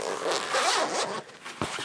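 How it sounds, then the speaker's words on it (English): A zipper on a Case Logic 13-inch padded laptop sleeve is drawn closed in one continuous, close rasping pull lasting about a second and a half, ending with a short tug. "So here, I'll zip it up."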